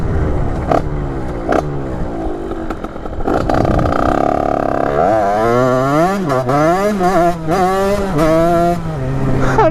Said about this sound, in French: elle fait des petits retours quand je mets plein gaz.